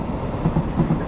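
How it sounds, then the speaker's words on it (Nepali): A train passing nearby, heard outdoors during a mountain bike ride, giving a steady low rumble with rhythmic wheel clacks, close and loud. "ठ्याक्क ट्रेन पनि आइदिरहेको हजुर ट्रेन हेर्नु नि"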